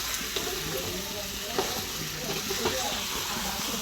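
Meat frying with spices, stirred now and then: a continuous steady sizzle with a few soft spoon scrapes and taps, close by, with no clear talk.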